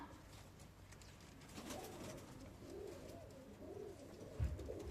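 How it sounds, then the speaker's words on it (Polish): Soft, low pigeon coos repeat faintly over a steady outdoor hiss, with a brief thump near the end. "no to prześliczne gołąbki patrzcie się jak to wygląda"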